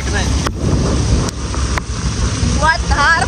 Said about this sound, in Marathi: धार पाऊस सुरू झाला आता